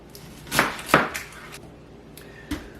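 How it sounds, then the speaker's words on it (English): A knife chops through a less-than-fresh onion on a board, trimming off bad parts: two firm cuts close together, a softer third, then a sharp tap near the end, all close by with no talk. "this onion that I'm using is less than stellar. So I'll cut off any bad parts."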